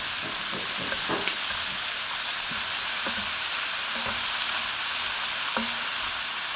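Shrimp fry in a skillet with a loud, steady sizzle and crackle, broken by occasional sharp pops and scraping as the pieces are turned over.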